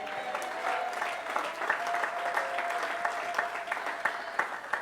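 Steady, dense applause and cheering from a large church congregation, continuous throughout with scattered louder claps.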